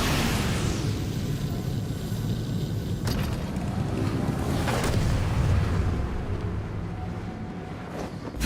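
A boat in Genshin Impact rushes across the water at full throttle, a steady roar of wind and splashing spray that swells and then fades slightly toward the end.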